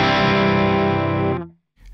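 Distorted electric guitar through a Hotone Ampero II with ribbon mic simulation: one thick, heavy chord held for over a second with a full bottom end, then abruptly choked off, followed by a faint rustle.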